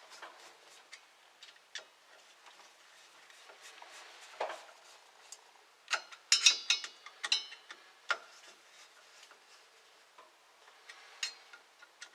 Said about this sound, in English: Let's try to screw this back together and see if it works yet.